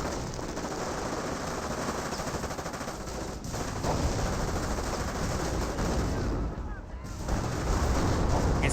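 Gunfire from Thompson submachine guns and STG assault rifles in the WWII strategy game Company of Heroes crackles as dense, continuous bursts, with overlapping rapid shots forming a steady rattling barrage from start to finish.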